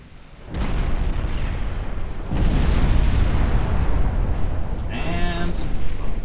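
Enemy cruiser sinking after a torpedo hit in the naval game Ultimate Admiral Dreadnoughts: a dense, loud rumbling explosion that swells after a second onset and sustains, with a brief tonal chime near the end.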